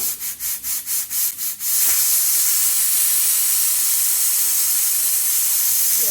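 A pressure cooker, with the heat just switched off after whistling, gives a few rhythmic pulsing hisses and then a loud, continuous rushing jet of steam that holds to the end.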